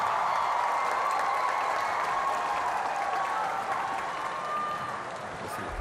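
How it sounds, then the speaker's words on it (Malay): Crowd applause at a 2023 public meeting in Kelantan welcoming Malaysian Prime Minister Anwar Ibrahim: dense, steady clapping from a large audience sustained throughout, easing slightly toward the end. "Ayo kita berikan tepukan paling gemuruh Perdana Menteri Malaysia ke-10, Datuk Seri Anwar"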